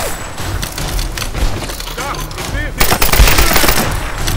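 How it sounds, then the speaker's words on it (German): Rapid bursts of gunfire from enemies in the Tomb Raider video game, dense and loud throughout, growing heavier in the second half with overlapping shots and impacts. "Hört auf zu schießen, ihr Opfer!"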